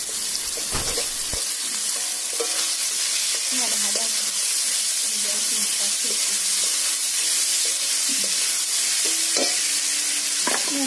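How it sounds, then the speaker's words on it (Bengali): Amla (Indian gooseberries) frying in a pan in a village kitchen, with a steady close sizzle and intermittent scraping stirs, plus a few clinks throughout. "দিয়ে আমলকিগুলোকে কিছুক্ষণ ভালোভাবে ভেজে নেবো।"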